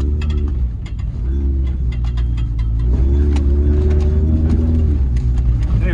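A $1500 Ford 4x4 race truck drives hard with a loud, rough engine roar and rumble, while a loose muffler or tire part clatters and bangs in irregular bursts close to the microphone.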